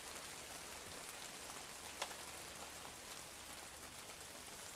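Steady rainfall over a Yancheng wetland where red-crowned cranes are resting, an even soft hiss of drops with one brief sharp tick midway and no voices.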